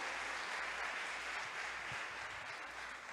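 A church congregation bursts into applause during a sermon, a continuous wash of many hands clapping that holds steady, then eases slightly near the end.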